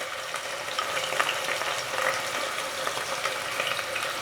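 Onion and ground spice pastes sizzling in a pan of oil for a mutton curry, a steady broadband frying hiss with faint scraping, continuous and close, no talk.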